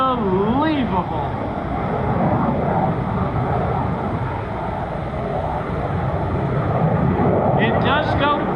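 An F-35B Lightning II jet performs at the 2024 Greater Binghamton Airshow, a loud, dense roar that holds steady throughout, with wind buffeting and an announcer's voice over it.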